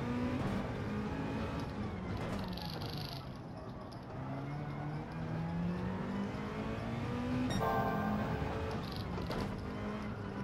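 A car driving through a corner in Gran Turismo 7, a steady engine drone rising and falling in pitch as it slows and accelerates, alone and fairly loud.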